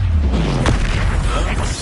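An Expulso explosion spell cast in a wizarding video game, one loud deep boom with a rumbling low tail, close and dominant, lasting under two seconds.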